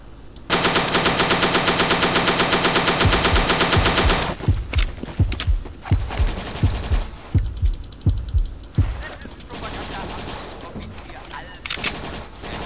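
A grease gun submachine gun in the WW2 dinosaur shooter Dino D-Day fires one long, rapid, loud automatic burst. Scattered single gunshots and thuds follow as the firefight goes on.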